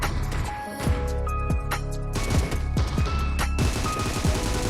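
Rapid shotgun blasts and other gunfire crackle through a PUBG Mobile match on the Livik map, dense overlapping shots with booming impacts, loud and continuous with no talking over them.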